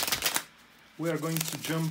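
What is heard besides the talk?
shuffling tarot cards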